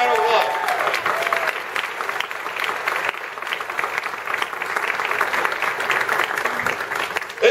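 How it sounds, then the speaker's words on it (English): A convention audience at a Dragon Con panel applauds a guest coming onstage, a sustained, dense wash of clapping that holds steady throughout, with voices mixed in beneath it. "Come on out, come out, round of applause"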